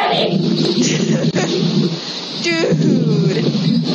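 Heavy rain falls in a steady loud hiss with a low rumble of thunder beneath it, and a brief sharper crack partway through.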